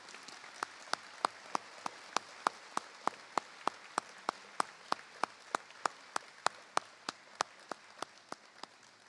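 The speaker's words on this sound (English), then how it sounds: "Let's give our student athletes a round of applause" Sharp single claps ring out at a steady, even rhythm, about two or three per second, clear and fairly close, from a few people applauding student athletes at a school board meeting; no voices speak over them.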